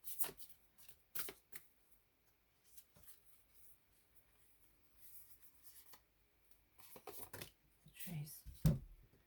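Tarot cards are shuffled in short, crisp riffling bursts, separated by quiet pauses, with a few soft handling sounds close by.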